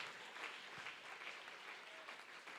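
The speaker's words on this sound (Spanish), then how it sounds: "Dele ese aplauso que se lo merece nuestro Rey" Faint, distant applause from a church congregation, a continuous soft patter of many hands with no clear individual claps or speech.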